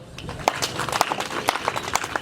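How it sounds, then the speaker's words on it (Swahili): An audience at a rural road-building meeting in Mbeya applauds the regional manager with light, scattered clapping that stays fairly soft and brief. "hebu tumpigie makofi"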